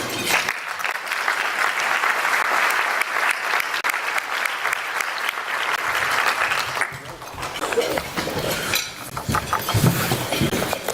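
Sustained applause fills a hall as a sheriff is welcomed at a county address, a loud, even wash of clapping that tapers into scattered claps and a voice at the end.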